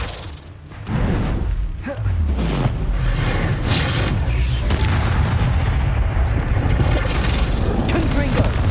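Flipendo spell blasts in Hogwarts Legacy land as loud, booming whooshes over a dense, continuous rumble of combat effects, with no talking.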